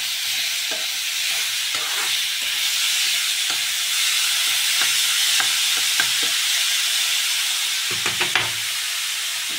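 Beetroot stir-frying in a pan without water, a loud steady hissing sizzle with intermittent soft scrapes and taps of stirring.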